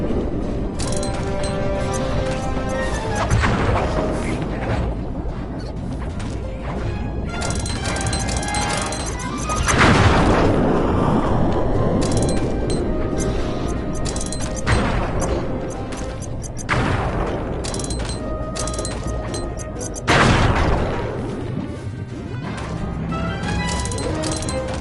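Repeated heavy bomb explosions in a Sly video game on PS5, several loud booming blasts spaced several seconds apart over a steady background of game music and noise.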